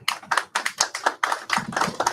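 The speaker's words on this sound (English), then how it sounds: "your 3 supporters just clap for you." Small audience clapping during an online debate review stream, a burst of sparse applause with uneven, close-miked claps repeating over about two seconds, no talk.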